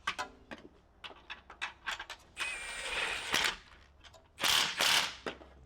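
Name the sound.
ratchet tightening catalytic converter bolts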